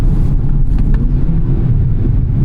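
Engine induction note from a 2024 Nissan Z sports car, a steady low rumbling drone heard from inside the cabin, moderately loud and continuous without talk.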